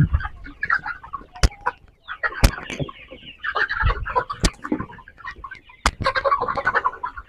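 Farm chickens recently vaccinated, clucking and murmuring in a close group, with several sharp loud clicks or knocks cutting through at intervals; no talking.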